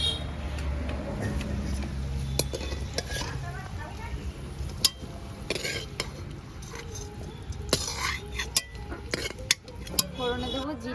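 Fried potatoes with cumin, coriander, dried chilli, ginger paste and chopped tomato are moved into a pan of soybean chunks: close spatula scraping and utensils clinking against the pan over a soft sizzle.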